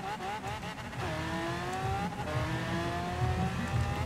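A 2013 Lamborghini Veneno revving hard through gear changes in a Forza Horizon drag race, its engine note climbing, dropping at each shift, then climbing again, steady and fairly close.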